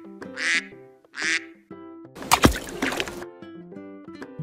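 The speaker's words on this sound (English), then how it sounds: "Duck." A toy duck gives two short squeaky quacks, close and loud, followed by a burst of splashy noise and more faint electronic toy tones.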